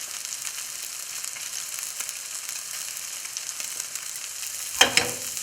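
Cod fillets sizzling in a hot pan outdoors, a steady close crackling fry with a couple of sharper spits and clatters near the end.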